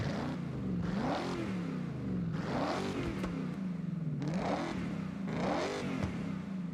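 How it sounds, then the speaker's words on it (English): A car engine with a straight-pipe exhaust, set up with the same engine and exhaust as a 2000 Mustang, revs repeatedly in Forza Horizon: four rising and falling rev cycles, loud and close, with no talk. "And now it sounds like a straight pipe 2000 Mustang."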